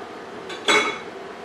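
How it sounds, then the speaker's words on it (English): A spoon scrapes and clinks against a pot while beef stew ingredients for Puerto Rican sancocho are stirred, a single short burst of metallic clatter that rises briefly and fades against quiet kitchen background. "Let's stir the ingredients."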